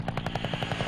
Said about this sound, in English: Flying over the plains of Wyoming in an old Huey helicopter